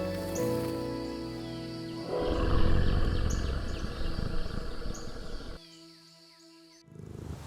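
Young lions roar on the African savanna, a deep, loud rumbling roar building in the middle and stopping abruptly, with a shorter burst at the end and steady insect-like drone behind.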